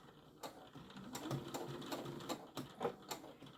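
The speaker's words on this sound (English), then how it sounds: "I'm going to go forward and back so that I can lock those stitches into place." A sewing machine stitching forward and back on a cord keeper, irregular mechanical whirring bursts with clicks and pauses, close and fairly quiet.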